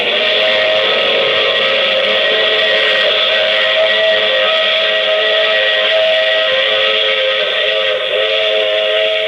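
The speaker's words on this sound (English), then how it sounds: "I take this same train every week at this same time." A steam train whistle sounds as a radio drama effect, one long steady loud blast holding throughout with no voices.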